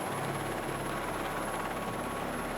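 The Care Flight 1 rescue helicopter arrives over Bondi Beach, a continuous rotor and engine drone that stays loud and steady without a break.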